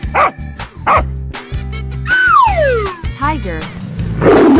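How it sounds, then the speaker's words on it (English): A cartoonish dog barks in a 3D animal slide video game, a few sharp yaps and a falling howl over bouncy background music with other game sounds. "Dog."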